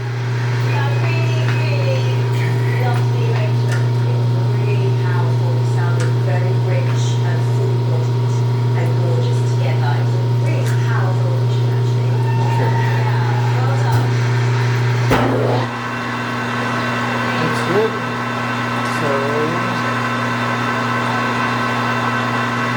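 A PM 1640 metal lathe turns at 250 RPM with coolant flowing, a steady loud motor hum with a clear pitched drone and intermittent cutting noise, then a sharp clunk and a shift in tone, with someone speaking over it.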